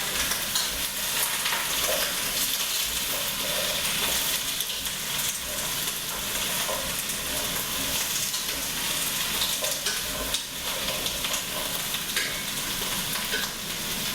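Vegetable broth ingredients are stirred in a pot over heat, giving a loud, dense sizzling hiss with a steady rustling stir that continues without a break, and no voices.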